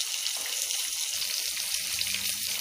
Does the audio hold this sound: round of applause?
no